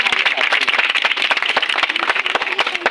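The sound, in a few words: audience applause to welcome the academy founder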